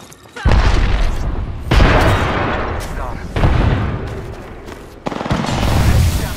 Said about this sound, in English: I broke someone with a nade that I threw